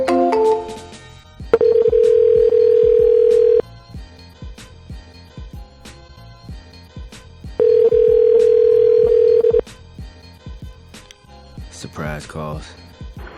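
A telephone call is dialed with quick keypad tones, then two long steady ringback tones sound several seconds apart. Faint music plays softly underneath, and a voice comes in at the end.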